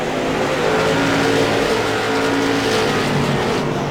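Late model race cars in a sportsman racing game roar continuously at close range, a dense engine drone with shifting pitch as several cars run together, with no talk.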